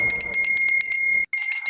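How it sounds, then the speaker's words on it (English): A bright bell rings in a quick run of repeated strikes with a sustained high tone, loud and close, stopping abruptly for a moment before starting again. "What's the bell?"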